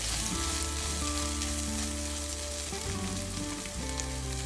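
Okra (ladies finger) frying in a covered pan for a spicy Tamil-style fry, a steady, loud, continuous sizzle throughout with faint stirring, no talking.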